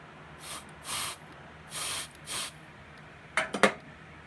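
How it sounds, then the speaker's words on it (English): Four short hissing bursts of aerosol test smoke sprayed into a smoke detector, evenly spaced, then a quick cluster of rattling clicks close by. "Just spray a little bit of smoke in there."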